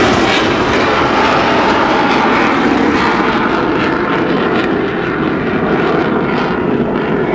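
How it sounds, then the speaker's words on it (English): A Eurofighter Typhoon jet roars past at an airshow on full afterburner, a loud, dense, continuous broadband rumble that holds steady throughout with no talk. "Fast pass on full afterburner"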